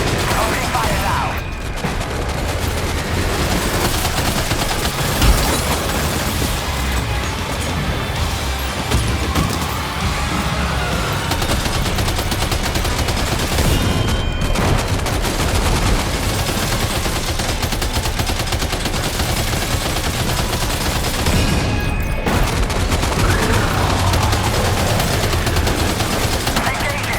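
Video game gunfire in Death Stranding 2: dense, continuous bursts of automatic fire with mechanical clatter, loud and sustained throughout a long battle, with a few brief pauses.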